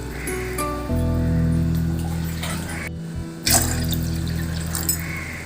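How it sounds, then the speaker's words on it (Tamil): Water pours steadily into a cooking pot on the stove for sweet corn soup, a loud continuous splashing stream with a brief break partway through. "வச்சுட்டு 3 டம்ளர் தண்ணி ஊற்றிக்கோங்க."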